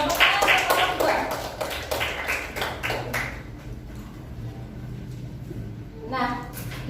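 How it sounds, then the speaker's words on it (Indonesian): Classroom applause for a student group, a burst of clapping and taps mixed with children's voices over the first three seconds, then fading into low room chatter. "tepuk tangan untuk kelompok 2."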